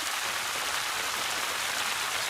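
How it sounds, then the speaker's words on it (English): Heavy rain falls steadily on a sheltered spot during a wooden dinghy cruise after floods, a dense continuous hiss and patter, close and fairly loud, with no voices. "It started raining again."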